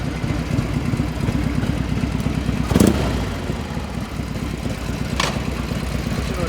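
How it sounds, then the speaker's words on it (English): A 1980 Harley-Davidson FLT with a carbureted engine idles through its exhaust in a steady, even low-pitched loping rumble, close and alone, with a brief louder blip partway through. "Listen to the exhaust on one more time. Idles perfectly."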